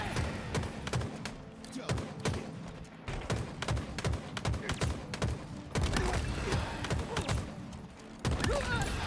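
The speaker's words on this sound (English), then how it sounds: "I'm shooting bots." Gunfire rattles steadily while bots are shot in a Halo match, with rapid repeated shots and impacts over a constant game background.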